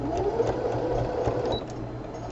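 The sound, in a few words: sewing machine running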